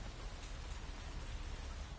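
Steady, even rain hiss fills the scene in the video game Hitman 3, a continuous soft wash of falling drops with no talking, heard faint and unbroken throughout.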